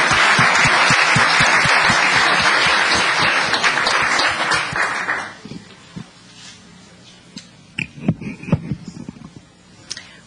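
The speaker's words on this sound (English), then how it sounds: "let's give them a round of applause" An audience at a town council meeting claps loudly for about five seconds, then the applause fades into scattered individual claps and a few knocks.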